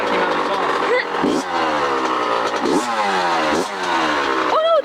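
A 2007 Kawasaki KX85 dirt bike with a freshly installed piston runs loud and close, its two-stroke engine revving up and dropping back in repeated swells over steady running.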